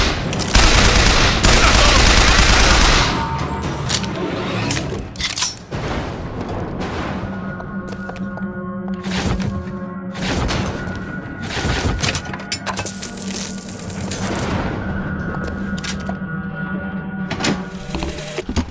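Rapid gunfire erupts in BioShock Infinite, with loud bursts and sharp cracking shots separated by brief pauses, followed by scattered heavy reports and echoing impacts.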